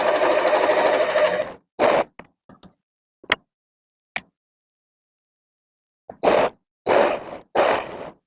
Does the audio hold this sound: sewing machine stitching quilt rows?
yes